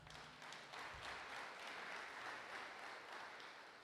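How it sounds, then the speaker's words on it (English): An audience applauding at a city's State of the City address, a steady wash of clapping from a crowd, fairly distant and faint. "Round of applause for Jonathan here"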